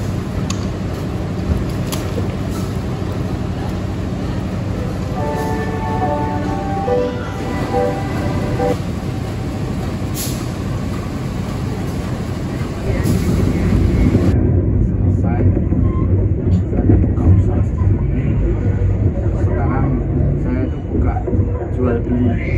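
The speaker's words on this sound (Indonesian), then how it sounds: "ini untuk perjalanan kereta api Sri Tanjung tiba di stasiun" The Sri Tanjung passenger train arrives at Purwosari station, a loud continuous rumble of wheels and cars rolling past that swells in the second half, with brief squeals and people talking over it.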